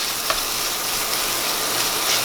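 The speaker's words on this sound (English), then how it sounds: "Let it sizzle for a little bit." Ground meat, about a pound, browning in a hot pan for biscuits and gravy, giving a steady close sizzle and crackle with a few small pops, no talking over it.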